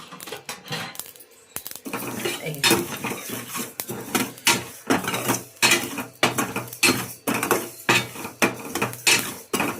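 Cumin, fenugreek and mustard seeds roast in a pan for a tomato pickle, and a spoon scrapes through them again and again in quick, close metallic strokes that quicken into a steady rhythm.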